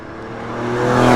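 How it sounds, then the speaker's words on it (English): A Porsche 911 fitted with a Fister aftermarket exhaust revs on an open road, its loud engine note rising steadily in pitch and volume over about a second. "This particular 911 has a Fister exhaust."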